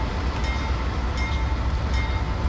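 A CN/IC diesel locomotive hauling a grain train on Marias Pass in Train Simulator 2019 throttles into notch 1, giving a steady loud low engine rumble with faint periodic clanks, and no one speaks.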